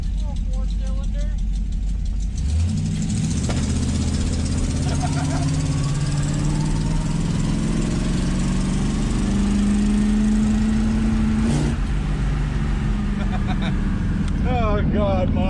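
A 1966 Dodge Dart GT fitted with a small four-cylinder engine and a custom exhaust runs with a steady, loud rumble that rises as it revs, while people talk over it.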